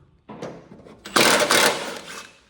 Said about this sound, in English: Next, we're going to take off the deck pulleys. 10 millimeter.